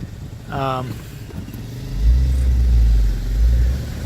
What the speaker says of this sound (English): When you start it up, you get that little clicking from the lifters.